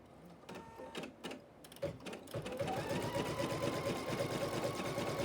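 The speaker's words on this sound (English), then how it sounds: "You're going to see the grid being stitched on to the batting" A sewing machine stitching a grid onto quilt batting: a few separate clicks and short bursts first, then a rapid, steady mechanical chatter of stitching, close and moderately loud.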